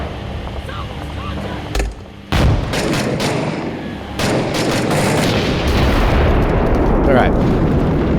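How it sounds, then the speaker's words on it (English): Grenade blast striking a vehicle in a military shooter game, a loud boom with heavy rumbling gunfire and explosions running continuously beneath a player's brief spoken remark. "1 grenade hit does disable the vehicle"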